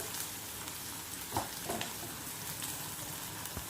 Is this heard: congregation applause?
no